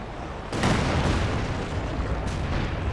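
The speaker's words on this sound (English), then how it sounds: "big Katyusha coming through" Rumbling Katyusha rocket barrage in the strategy game Company of Heroes 2, a dense, continuous roar of launches and impacts that swells after a half-second and stays loud throughout, with a further burst near the end.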